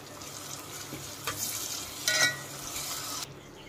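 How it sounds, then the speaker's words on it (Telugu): Sliced onion and tomato frying in a pan for a brinjal and tamarind-leaf curry, a steady sizzle with a few spoon scrapes and stirring bursts, then it drops away sharply at the end; no speech. "ఆనియన్ టమోటా మంచిగా ఫ్రై అయిందండి."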